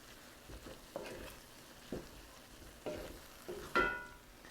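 Shrimp stirred into a pot of Louisiana jambalaya, giving soft scraping stirs and low sizzling in a handful of short bursts, with no voices.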